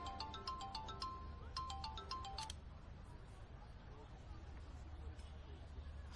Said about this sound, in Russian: Папа звонит.